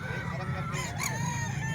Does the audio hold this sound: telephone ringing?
no